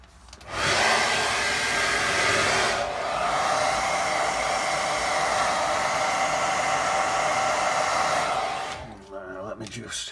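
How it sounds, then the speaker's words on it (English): A hairdryer blows onto a watercolour painting of a house, shed and lake, a loud steady whir that switches on, holds for several seconds and cuts off near the end. "Get hairdryer on it."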